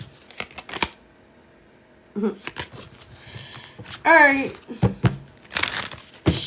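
Cards are shuffled in quick riffling bursts, broken by pauses, with a person speaking briefly between them.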